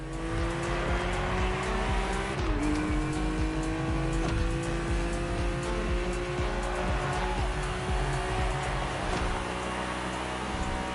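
BMW race car driving in The Crew Motorfest, a loud continuous engine roar with rising and falling revs and a gear shift, sustained throughout with faint tire noise.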